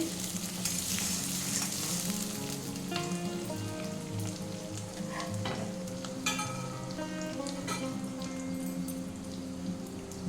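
Potatoes fry in oil in a pan, giving a steady, close sizzle with scattered crackles and pops and no talking.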